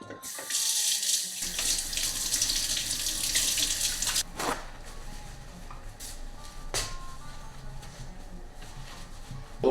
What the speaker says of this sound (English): First, I've gotta wash my hands.